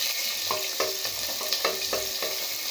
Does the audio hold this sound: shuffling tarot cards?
no